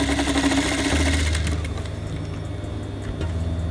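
Sewing machine running steadily as it stitches the two ends of a piece of elastic together for a waistline finish; a continuous, fairly loud mechanical whir with a slight drop in pace midway.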